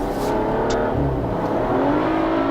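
A BMW car accelerates up a steep hill, with a loud, continuous engine drone that rises steadily in pitch as it revs, heard from inside with no talking.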